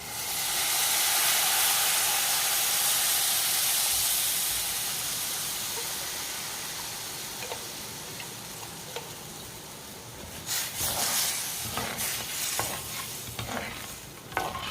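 Tamarind broth hits a hot pan with a loud hiss that eases into steady bubbling, followed by a spoon clinking and scraping as it is stirred.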